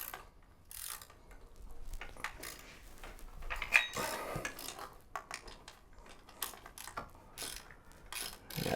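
A 12mm ratchet working on the supercharger belt tensioner of a high-mileage engine: a series of quiet, close clicking and ratcheting bursts with small metallic clinks, spread irregularly across the clip.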